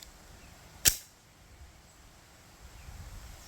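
A single pistol shot cracks out sharp and fairly close, from a Fusion XF PRO or a Glock being compared outdoors, then fades into light wind and rustle with no further shots.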